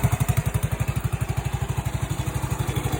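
A Honda ATC90 three-wheeler idles indoors, its small single-cylinder engine putting out a fast, even, loud putter right up close, with no voices over it.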